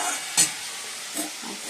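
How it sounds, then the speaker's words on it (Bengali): Chopped onion frying in a pan for a pea ghugni curry gives a brief, steady hiss, with one sharp clatter near the start and a softer knock later. "পেঁয়াজটা দিয়ে দিচ্ছি, আর ভাজছি পেঁয়াজটা।"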